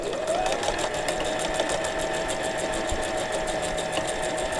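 A sewing machine stitches along the sides of fabric strips cut from scraps, its rapid, even needle chatter running steadily and close throughout with no talking.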